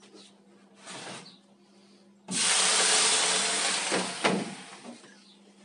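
Steam bursts out of an oven while no-knead bread bakes, a faint puff first and then a loud, sustained rushing hiss that tapers off with a few bumps and knocks.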